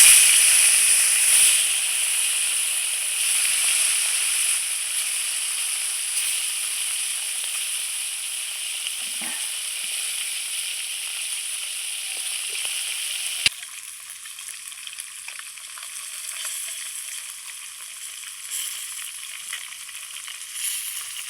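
Sole fish frying in hot oil in a pan, a loud, continuous sizzle and hiss that drops to a softer, steadier crackle partway through, with no talking over it.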